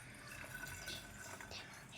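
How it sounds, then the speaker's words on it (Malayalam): A few glasses of water poured into blended raw mango juice, a faint close-up splashing and trickling of liquid. "2-3 ഗ്ലാസ് വെള്ളം അങ്ങോട്ട് ഒഴിച്ചു കൊടുക്കട്ടോ"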